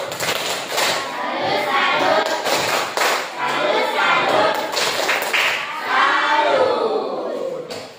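A class of schoolchildren doing tepuk salut, a loud burst of patterned clapping with taps and thumps, accompanied by the children chanting and shouting together throughout.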